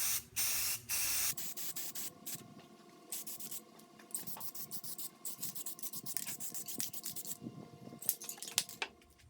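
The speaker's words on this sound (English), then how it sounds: "And I'm just bringing on the first coat of enamel paint here." Enamel paint is sprayed in short hissing bursts onto a part from an Atlas 73 drill press during restoration, close and fairly loud, with rapid repeated spray pulses separated by brief pauses.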